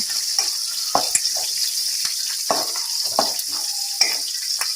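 Curry leaves fry in oil for a tomato chutney tempering, a bright steady sizzle over low flame punctuated by brief knocks and scrapes of stirring.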